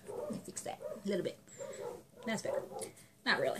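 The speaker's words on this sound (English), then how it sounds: "You can hear the dogs in the background, as always." Dogs bark and yip in the background under a woman's close-up talking, with short bursts scattered between her words.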